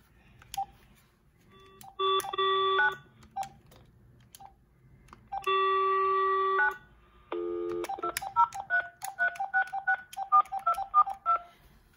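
DTMF keypad tones dialed on an AT&T EL52303 DECT 6.0 cordless phone handset, loud and close: two long held tones, then a quick run of short, evenly spaced beeps.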